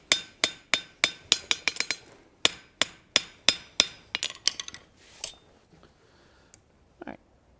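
A small hammer forges a metal latch leg, ringing sharp strikes on hot metal at a steady quick rhythm, with a few fast clusters, then the blows fade out and a short voice is heard near the end.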